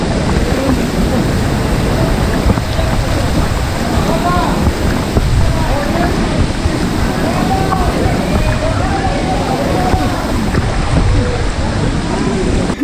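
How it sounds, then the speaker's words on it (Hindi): Noori waterfall at Jabri, Khyber Pakhtunkhwa, rushing water thundering in a steady, loud roar that fills the whole scene without a break. "पानी का बहाव है जी बहुत ज़्यादा।"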